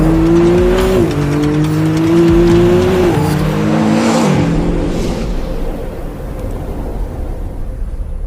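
A McLaren Artura hybrid supercar drives hard, its engine note rising through several gear changes with tire noise underneath, loud and close, then easing off into a steadier road roar.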